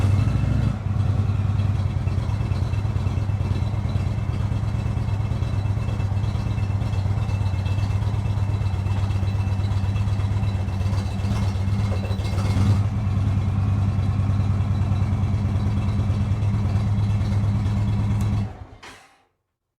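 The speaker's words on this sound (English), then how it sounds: "So now we're gonna pull in my big bike and see how it looks." A big motorcycle engine runs steadily at a low idle for nearly twenty seconds as the bike rolls into a Lock N Load BK1000 wheel chock, then cuts off abruptly at the end.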